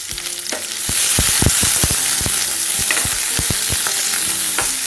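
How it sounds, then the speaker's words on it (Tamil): Shallots and dried red chillies with mustard seeds sizzle loudly in hot oil, with a constant frying hiss and repeated scraping strokes of a stirring spoon, close up and without talking. "வெங்காயம் நல்லா வதங்கட்டும்."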